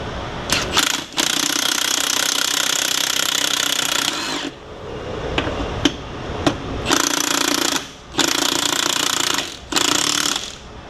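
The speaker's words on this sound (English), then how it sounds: "let's see if we can break this old bead." A Beadbuster BX-550 pneumatic tool hammers loudly at the bead of an old tractor tire in long rapid bursts, broken by short pauses and a few sharp knocks.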